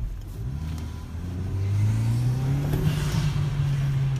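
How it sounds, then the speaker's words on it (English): A 2014 Kia Optima SX turbo with a newly installed intake revs up while driving, the engine note climbing steadily and the turbo spooling, heard from inside the car over road rumble. "You can hear that, you can hear it spool up."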